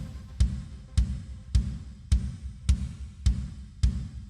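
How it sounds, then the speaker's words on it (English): A recorded drum track with big, punchy drums playing a steady beat, strong hits landing about every half second, low and full with no voices over it. "I've already put some drums in."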